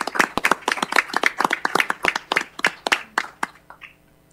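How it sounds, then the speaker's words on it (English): Applause at a city council meeting, a small group clapping with distinct, fairly close individual claps in an uneven patter that thins out and stops near the end. "Round of applause for everything they do."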